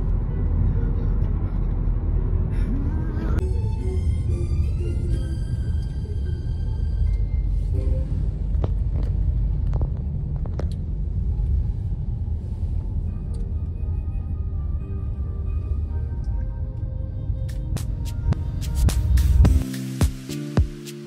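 A car drives along a road past slow buses and trucks, its steady engine and road rumble continuous and close, with occasional clicks and tones over the drone.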